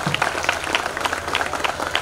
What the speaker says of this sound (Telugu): మీ స్టాఫ్కి అందరికీ కూడా ఒకసారి గట్టిగా చప్పట్లు కొట్టండి